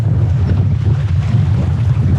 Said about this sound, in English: We got a little gust of wind going on right now.